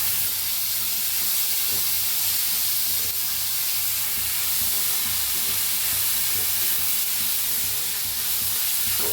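Soaked dal is sautéed in a hot pan for a drumstick vegetable dish, a loud, steady hissing sizzle with faint stirring, close and unbroken.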